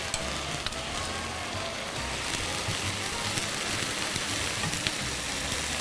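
A mushroom sandwich fries in a pan just after being turned over, giving a steady, fairly quiet crackling sizzle with scattered small pops and no voices.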